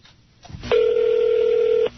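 A telephone rings on a radio prank call: one steady electronic ring tone, about a second long, heard alone on the line after a brief faint click.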